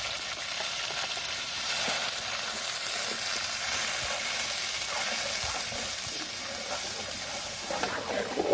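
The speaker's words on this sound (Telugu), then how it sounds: "ఆయిల్ హీట్ అయిన తర్వాత ఉల్లిపాయ, పచ్చిమిర్చి పేస్ట్ వేసుకోవాలి" Onion and green chilli paste fries in hot oil for a village-style prawn and egg dish, giving a continuous bright sizzle and hiss with an even level and no talking.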